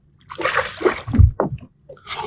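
Several short splashes and sloshes close by as a large bass caught on light tackle is eased back into weedy water, with brief gaps of quiet between them.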